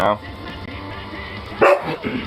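A dog barks twice, with one sharp bark at the start and another loud burst near the end, against a low background hum.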